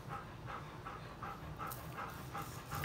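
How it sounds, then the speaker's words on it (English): A dog pants in steady, quick rhythmic breaths close by, fairly faint, beside a Weber kettle grill where tri tip is cooking, with no talk over it. "that panting you hear, you know who it is. The damn dog"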